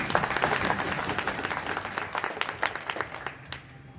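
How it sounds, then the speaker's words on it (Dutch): An audience applauds steadily at a Dutch veterans' shooting championship final, many hands clapping in a dense, moderately loud burst that thins slightly toward the end. "Uw applaus voor Danny!"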